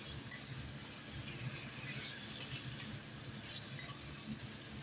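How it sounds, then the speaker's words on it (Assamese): Fried potatoes and chicken are stirred together in a frying pan: a low, steady sizzle with the soft scrape of stirring and a few sharp metallic clinks. "লগতে আলুখিনিও দিম, অলপমান ভালকৈ মিলাই লৈ পেলাই।"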